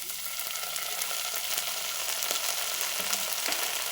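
A steady, loud sizzle comes from a pan of spring roll vegetable filling frying as red chilli sauce is poured in, with faint scrapes of stirring and no voices.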